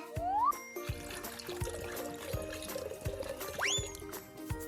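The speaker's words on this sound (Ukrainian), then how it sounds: "Зараз ми додамо воду у цемент і він не затвердне." Cartoon sound effect of water being poured into cement: a short rising squeaky glide, then a steady liquid trickle and a second bright upward sweep near the end, set over light music with a soft regular beat.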